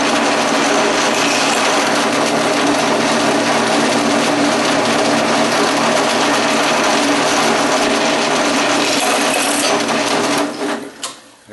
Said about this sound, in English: What I'm going to do is drill a hole here